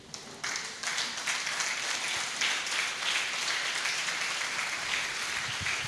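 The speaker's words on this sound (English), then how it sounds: "please rise as we give him a resounding applause of welcome" A standing audience at a Catholic archdiocese education summit in Ibadan breaks into welcoming applause, a sudden swell of dense clapping that holds steady and full for several seconds in a large hall.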